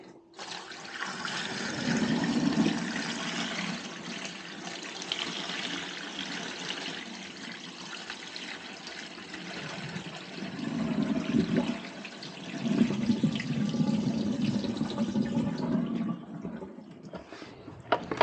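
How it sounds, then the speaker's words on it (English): Water from a reverse osmosis filter tank drains into a bucket, a continuous splashing and gurgling pour that swells and eases over many seconds, close up with no voices. "You can empty the water out."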